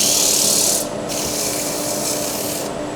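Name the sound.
sanding wood on a lathe with abrasives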